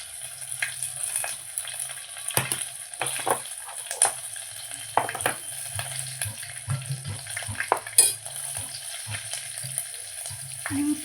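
A tempering of garlic, asafoetida and green chili sizzles steadily in hot oil for a simple dal, with scattered stirring clinks and scrapes over the continuous crackle.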